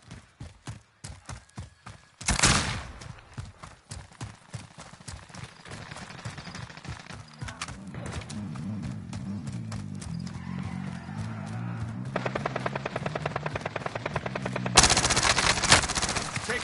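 Rapid bursts of gunfire in a game battle, with sharp shots at the start, a loud blast near the start, then dense, continuous firing that swells louder toward the end alongside clattering hoof-like thuds.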